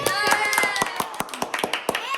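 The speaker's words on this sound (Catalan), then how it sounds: "Fort aplaudiment!" A small group claps in a quick, steady rhythm of sharp, close hand strikes, roughly four per second, while a voice calls out over the beat.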